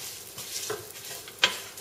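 A spoon stirs red lentils into a pumpkin and chickpea soup in a pot, with a few short scraping swishes and a faint sizzle ending in a sharp clink against the pot.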